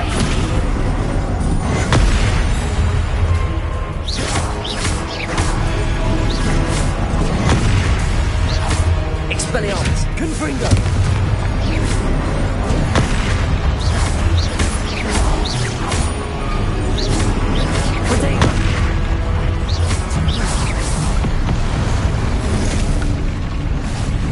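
Spell blasts in Hogwarts Legacy combat, repeated booming bursts and crashes layered over a continuous dense game soundtrack, loud and busy, with a voice speaking over the action.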